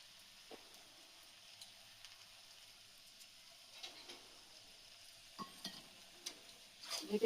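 Prawn curry with garam masala simmering in a pan, giving a soft, faint sizzle broken by occasional clinks and scrapes of a utensil, which grow louder and busier toward the end.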